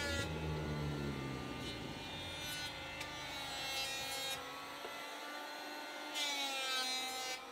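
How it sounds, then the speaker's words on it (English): An electric planer smooths the bottom of sawn wooden boat frames, its loud, steady motor whine running throughout with slight shifts in pitch as it cuts. "Just one last pass on the bottom with the planer would make these perfect."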